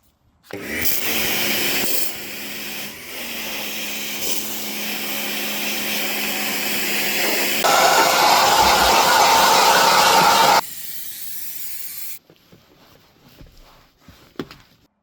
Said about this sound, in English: But first, a quick pressure wash and clean is in order.